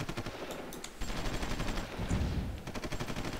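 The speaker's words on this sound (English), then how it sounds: "This is a lot of fire." Rapid, rhythmic weapon fire from units in the strategy game Supreme Ruler Ultimate, several overlapping bursts clattering continuously at moderate loudness with no talking.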